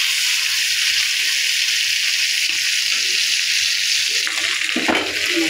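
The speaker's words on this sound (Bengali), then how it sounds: "এবার মাছের মাথাগুলি ভালোভাবে ভেজে নিই।" Hilsa fish heads fry in hot oil with a loud, continuous hissing sizzle that fills the scene, with a brief clatter near the end; no talking.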